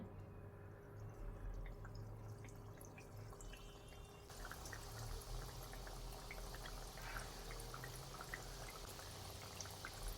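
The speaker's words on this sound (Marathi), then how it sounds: "बालूशाही तेलामध्ये डीप फ्राय करायला टाकल्यानंतर लगेचच पलटण्याची घाई करायची नाही" Balushahi dough deep frying in hot oil over a low gas flame, a steady dense sizzle and bubbling that holds throughout and grows slightly louder midway, with no voices.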